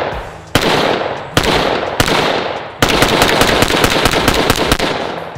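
A custom-built rifle with an adjustable gas block fires four loud, sharp reports at uneven intervals, followed by a dense run of smaller pops and crackles. The shots are close and dominate the sound.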